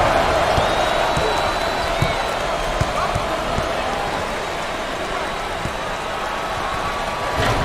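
Basketball arena crowd in NCAA Basketball 10, a steady dense roar of cheering that holds constant throughout, with faint sneaker squeaks and ball bounces audible beneath it.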